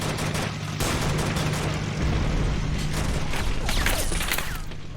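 Rapid gunfire from an inaccurate weapon in Men of War: Assault Squad, shown in a Soviet special forces assault on a presidential palace, rattles in sustained bursts with a low rumble underneath, moderately loud and continuous.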